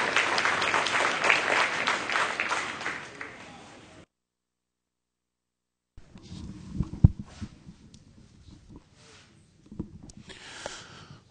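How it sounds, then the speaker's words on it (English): An audience at a spring dairy cattle show applauds the judge in a burst of clapping that fades out, followed after a gap by scattered sounds and light crowd noise. "let's give our judge, Chris Hill, a huge round of applause"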